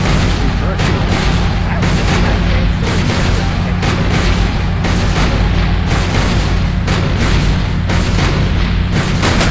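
Rapid, loud gunfire crackles almost without pause in the Sam & Max: Save The World video game, dense bursts of shots layered over a low rumbling bed throughout.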